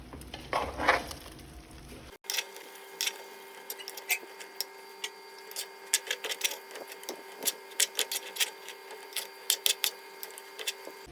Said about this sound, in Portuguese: Então agora a gente vai deixar aqui, ó, ele fritar um pouquinho, até soltar todo esse fundinho da panela